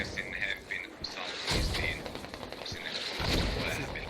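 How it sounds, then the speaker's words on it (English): Video game battle with mortars and gunfire: bursts of rattling shots and heavy thuds of mortar impacts rise and fall in two waves over continuous background noise, with faint commentary voices. "Mortars are still going out."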